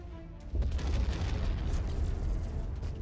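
Artillery shells exploding in the MechWarrior 5 mech combat game, a deep booming blast that hits suddenly and then rolls on as a sustained loud rumble.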